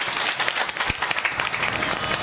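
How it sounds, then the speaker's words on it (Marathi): An audience at a devotional kirtan held for Ganesh immersion in Kolhewadi claps for Solanki Maharaj, dense continuous applause from a crowd. "एकदा सोळंकी महाराजांसाठी जोरदार टाळ्या वाजवा"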